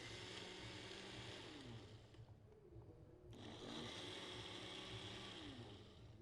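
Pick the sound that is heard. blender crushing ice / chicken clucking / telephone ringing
blender crushing ice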